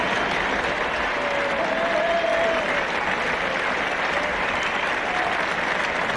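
Sustained applause from a cricket crowd at Trent Bridge in 1977 greeting batsman Derek Randall, a dense steady roar of clapping throughout, loud and unbroken.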